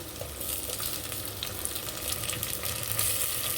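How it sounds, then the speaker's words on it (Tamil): Tomato frying with onions in hot oil for a fish curry, a steady dense sizzle with occasional stirring scrapes, close and continuous throughout, no talking. "வெங்காயம் வதங்கிச்சு தக்காளி போட்டுடலாம் ஒரே ஒரு பெரிய தக்காளி"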